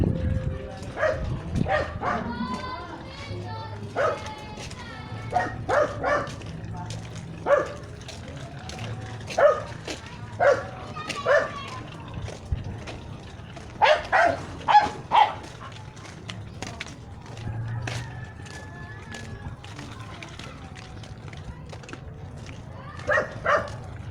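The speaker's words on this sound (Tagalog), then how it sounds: "Daming aso dito" Several dogs bark repeatedly at varying distances, some close and sharp, others fainter, in irregular bursts over steady outdoor background noise.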